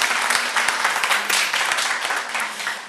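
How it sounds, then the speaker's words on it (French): An audience at a university debate event in Guinea applauds the debaters, a dense, steady wash of many hands clapping together at close range for about three seconds. "Je vous demande de les applaudir."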